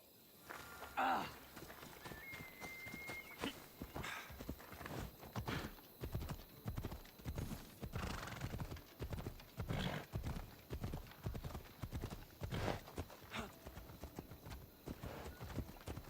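Horse hooves clip-clopping at a steady gallop in the ancient Greek world of Assassin's Creed Odyssey, a close, rhythmic thudding with an occasional whinny over game ambience.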